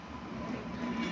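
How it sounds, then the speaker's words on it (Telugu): A superfast train passes along track 3 at platform 4 of Kazipet railway station, heading from Warangal, with a steady, loud rumble of wheels on rails and no voices. "super fast train"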